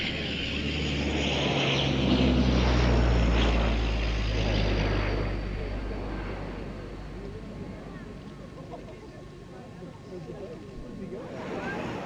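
A propeller aircraft flying a display at a seaside airshow, its engine drone swelling loud as it passes close and then fading, with a voice talking over it.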